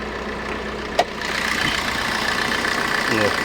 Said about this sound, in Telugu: మీకు ఏసీలనే ఇంజన్ సౌండ్ వినిపిస్తున్నాను నేను.